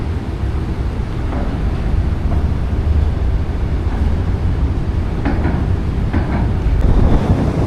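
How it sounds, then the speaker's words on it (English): Wind blows hard across open water near a historic lighthouse in Washington state, producing loud, continuous low-frequency buffeting and rumble on the microphone with no speech. "It's kind of windy out here."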